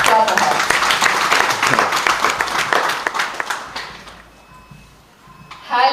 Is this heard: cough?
no